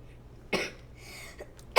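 A person coughs twice in a quiet room, each a short sharp burst about a second apart, with faint throat sounds between them.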